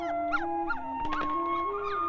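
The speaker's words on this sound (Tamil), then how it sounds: "உனக்கு நாய்க்குட்டினா ரொம்ப பிடிக்கும்ல, அதான் வாங்கிட்டு வந்தேன்." A puppy whimpers and yips in a string of high, wavering cries, close and fairly loud, with no talking.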